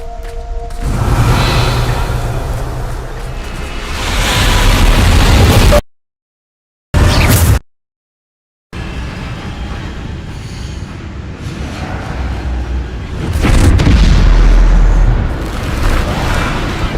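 A Bombarda spell explodes in the Hogwarts Legacy video game: loud, heavy booms and rushing blasts fill the clip, broken once by a brief silent gap before the rumbling resumes.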